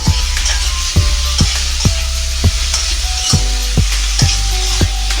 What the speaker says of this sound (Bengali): আমি এখন হালকা করে ভেজে নিব সুন্দর করে। টমেটোটা একটু ভাজতে দিলাম।